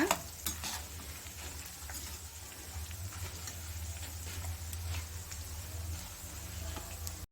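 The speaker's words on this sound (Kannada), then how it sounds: "ತಕ್ಷಣ ನಾವು ಸೌಟಿಂದ ಒಂದು ಎರಡು ನಿಮಿಷ ಚೆನ್ನಾಗಿ ಇದನ್ನು ಫ್ರೈ ಮಾಡಿ ತಗೊಳ್ಳೋಣ" Boondi fry in hot oil for boondi laddu while a ladle stirs them. A continuous close sizzle and bubbling runs throughout, with occasional scrapes and taps of the ladle against the pan.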